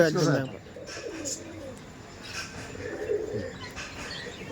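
Pigeons kept for pigeon racing coo in low, throaty bursts, with a louder call at the start and softer cooing after, mixed with voices nearby.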